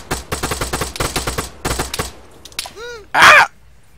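Rapid machine gun bursts in the military shooter game Arma 3 rattle out in several close, loud volleys, followed by a brief warbling tone and a final harsh blast.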